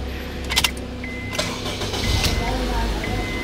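Honda CR-V engine cranking and catching, with a short jangle of keys near the start and a steady low rumble settling in as the motor runs, while someone speaks nearby.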